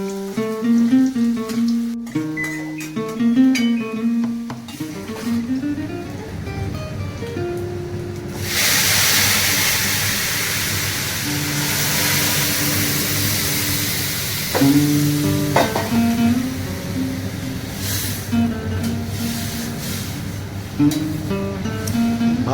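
Ground spice paste frying in a pan for a homestyle aubergine dish, a broad steady sizzle that swells loudly after the first few seconds and runs on, with music-like tones over it early on.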